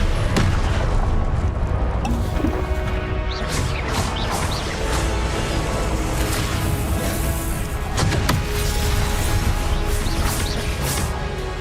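Confringo blast spells in Hogwarts Legacy, loud crashing booms and smashing impacts repeating over a dense, continuous battle din.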